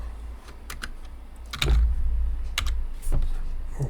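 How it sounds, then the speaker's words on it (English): Keys tapped on a computer keyboard in short irregular bursts, close and clear, with a few heavier thumps and no voices. "Save the message by typing my second"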